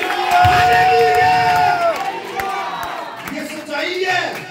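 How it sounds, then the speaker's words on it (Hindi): Church congregation at a Sunday prayer meeting clapping loudly and cheering, a dense burst of applause with whoops and shouts from many people, voices rising over the clapping. "जोरदार तालियां बजाइए"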